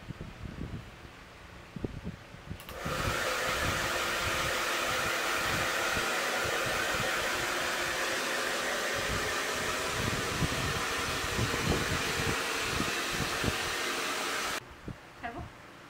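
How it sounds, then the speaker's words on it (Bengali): A hair dryer blows steadily on the tips of freshly step-cut hair. It switches on abruptly as a loud, even rushing hiss, holds for about twelve seconds, then cuts off. "ফাইনালি তোমরা চুলের আগাটায় ড্রায়ার দেবে"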